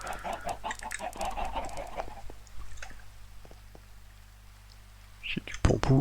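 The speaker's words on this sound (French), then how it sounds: "Là j'entends plein de poules" Clucking from chickens in Minecraft, a short burst of fowl calls near the end, preceded by a stretch of soft talk with a steady low hum running underneath.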